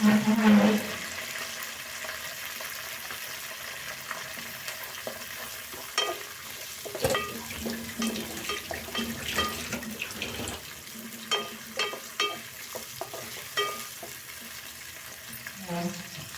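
Chopped onion fries in a pan for fish curry, a loud steady sizzle that opens with a burst as it hits the oil, followed by repeated stirring scrapes and clacks of a spoon against the pan, with no talking.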